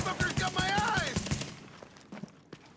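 Rapid video game gunfire hits a character's shield as a fast, even rattle of shots under a voice talking, then fades to a few faint pops.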